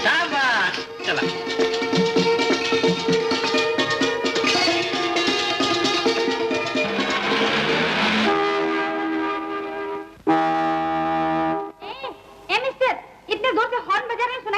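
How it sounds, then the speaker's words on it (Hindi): A vehicle horn blares in a 1962 Hindi comedy film scene: a sustained, loud honking tone of about a second and a half rises out of busy music, followed by brief, choppy sounds. "इतने जोर से हॉर्न बजा रहे हैं, सुनाई नहीं देता क्या?"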